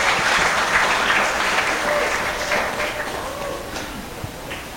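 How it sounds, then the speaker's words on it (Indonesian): An audience at a school student council debate applauds candidate pair 1, a steady wash of clapping from many hands that slowly fades over several seconds. "beri tepuk tangan untuk paslon urut 1"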